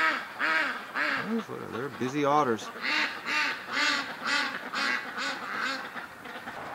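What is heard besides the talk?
ducks quacking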